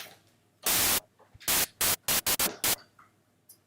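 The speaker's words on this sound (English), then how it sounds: "what you need for it is white noise" Bursts of white noise from a SynthMaster synthesizer play as loud, hissing blasts, one long and then several short ones in an irregular sequence, with quiet gaps between them.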